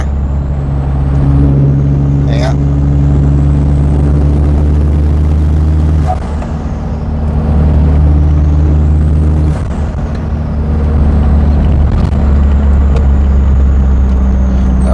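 An Isuzu D-Max pickup's 3.0 diesel engine drones steadily from inside the cab while driving, with low rumbling tones that shift as the manual gearbox changes gear, plus occasional brief clicks.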